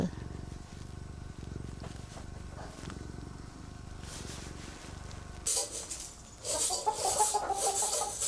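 Chickens cluck and chatter close by, a scattered run of short calls that grows busier and louder in the second half, over a steady low background rumble.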